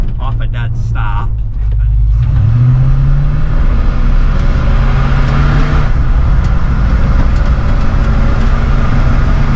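A 1975 Ford F250 pickup with a 390 FE V8 pulls away from a dead stop, its low engine note rising steadily as it accelerates, loud and close, continuous throughout with some background noise.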